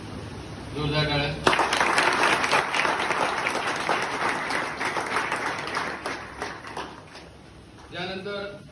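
Loud audience applause at a felicitation ceremony, a dense burst of many hands clapping that rises sharply and holds for several seconds before fading, with brief speech before and after.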